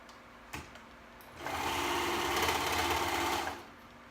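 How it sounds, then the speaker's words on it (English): A serger sewing machine runs steadily for about two seconds as it sews the side seams through three layers of fabric, starting after a brief click. The whirring motor is loud and close, with no talk over it. "now I'm gonna go ahead and serge all those sides, the two sides."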